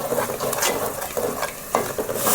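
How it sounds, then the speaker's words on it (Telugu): Onion paste fries in a pan with curry leaves for an Andhra fish curry, giving a steady close sizzle with soft scraping stirs and a few light clinks. "ఆనియన్ పేస్ట్ కొంచెం ఫ్రై అవ్వాలండి"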